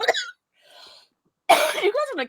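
A podcast host coughs in short harsh bursts close to the microphone, with brief silent gaps between and a strained, voiced rasp at the end.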